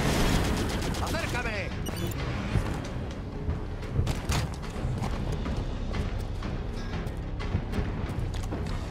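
Gunfire fills a firefight in the video game Halo 5: Guardians, with rapid cracks and bursts of shots over a dense, noisy battle background while a player talks through it.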